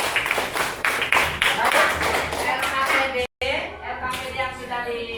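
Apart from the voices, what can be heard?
classroom applause, clapping hands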